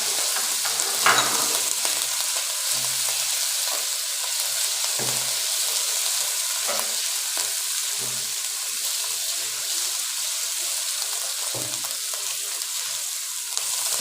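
Ginger garlic paste frying in two tablespoons of hot cooking oil, a steady close sizzle with occasional stirring scrapes throughout, no talking.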